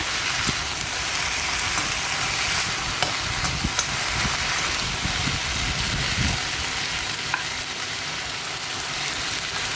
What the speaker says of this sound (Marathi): हे फ्राय करून घ्यायचं आहे. आणि त्याचे हलवून घ्या.